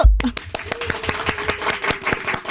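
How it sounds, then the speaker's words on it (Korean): A small studio panel on a Korean radio talk show claps together in quick, evenly spaced beats marking the show's second anniversary, crisp and close, with voices underneath. "박수!"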